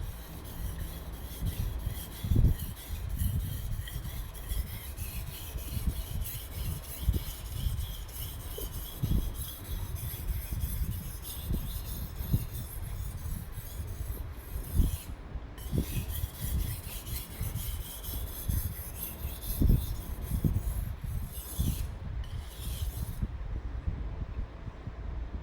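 A knife with minor chips rubbed back and forth across a 400 grit whetstone, producing a steady run of close, gritty scraping strokes in an even rhythm.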